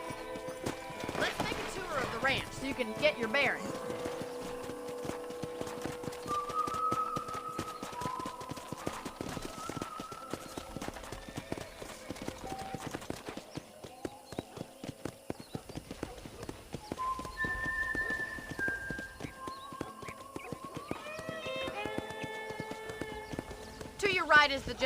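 Horse hooves clip-clop steadily on a ranch in the video game Red Dead Redemption, a close, even rhythm that carries on under a talking voice, with a horse whinnying now and then and music in the background.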